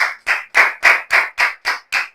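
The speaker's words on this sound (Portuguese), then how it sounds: "Vamos aplaudir ao Senhor." A church congregation claps together during a prayer service, eight loud, sharp, evenly spaced claps in a steady beat with brief silences between them.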